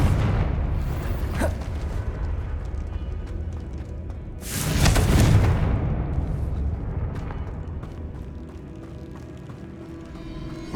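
A Confringo fire spell bursts in Hogwarts Legacy, a loud explosive blast swelling midway through a rumbling, busy game soundscape, with a few smaller pops before and after.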